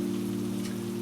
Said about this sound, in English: Tonight's weather forecast is heavy rain